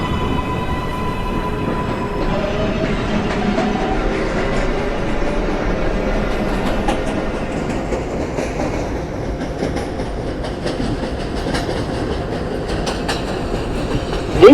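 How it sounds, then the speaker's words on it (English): An automated New York IRT 7 express subway train runs along the track with a steady rumble and rhythmic clickety-clack of wheels, continuous and close, with no talking. "This is a Manhattan-bound 7 express train."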